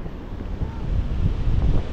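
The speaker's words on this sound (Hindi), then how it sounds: "तो यहाँ पे पानी का बहाव देख के तो आपको समझ में आ गया रहेगा" Fast-flowing monsoon water rushes along an Aadrai jungle trek, a steady, close, low roar mixed with wind buffeting the microphone.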